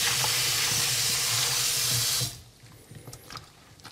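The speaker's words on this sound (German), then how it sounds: "Jetzt packe ich hier nochmal frisches Wasser rein und drücke hier nochmal so ein bisschen drauf rum." Fresh water runs steadily from a tap into a bowl of soy meat, a loud continuous rush that stops abruptly partway through, leaving quiet handling noises.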